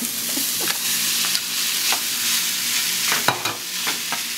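Tofu and curry frying in a pan, a steady close sizzle with a few scraping stirs of a utensil near the end.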